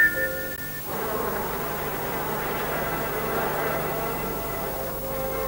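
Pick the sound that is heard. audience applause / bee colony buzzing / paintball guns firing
bee colony buzzing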